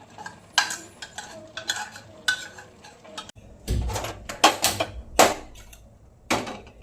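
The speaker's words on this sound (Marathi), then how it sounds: "जसं असं फिरवेल ना चमचा तसं बारीक होतं" Cooked spinach being stirred and mashed with a spoon in a pot, giving irregular close scraping and clinking strokes of metal on metal, some soft and some sharper, with no talking.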